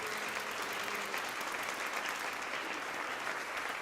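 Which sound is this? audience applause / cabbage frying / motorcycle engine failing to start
audience applause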